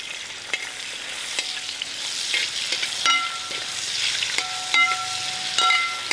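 Sliced ginger fries in hot coconut oil, giving a close, steady sizzle broken by the scrape and clink of a spoon stirring the pan, with no talking.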